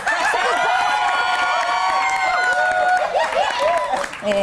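An Indonesian TV talk show studio audience claps and cheers, loud and continuous, with whoops and laughter layered over dense clapping and a host's voice breaking through near the end.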